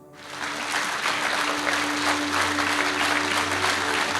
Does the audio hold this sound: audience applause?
yes